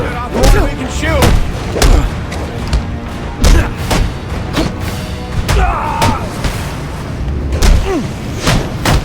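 Heavy gunfire rattles through a Batman: Arkham Origins fight, loud close bursts and booming thuds hitting irregularly, with shouting voices mixed in among the shots.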